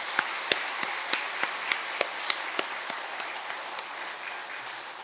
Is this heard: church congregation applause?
yes